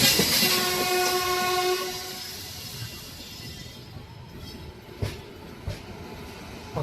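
A train rolls through the Kazipet junction area, its horn sounding loudly at first before fading, while wheels clatter over the rails with a few distinct clicks near the end and no voices.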